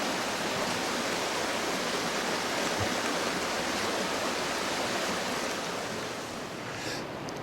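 Alaskan creek flowing in the background near lodge rooms, a soft continuous hiss of running water heard from a distance, steady and fairly faint throughout.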